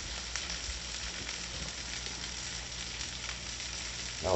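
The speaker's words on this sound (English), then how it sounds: "Now we're back to stirring this again." Eggs and pork roll fry in a hot pan, a steady dense sizzle holding at even volume with a faint scrape of stirring near the end, no voices.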